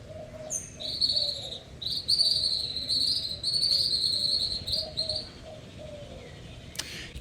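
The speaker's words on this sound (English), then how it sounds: "Can you hear all the birds all around me?" Early-morning birds chirp outdoors in repeated high, bright calls over a steady insect-like background buzz, with no voices present.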